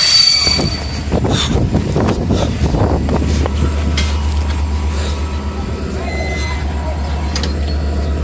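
A train arrives in Mangalia, Romania, its wheels squealing over a steady low rumble of railcars, with loud scraping bursts early on that settle into a continuous drone, and faint voices in the background.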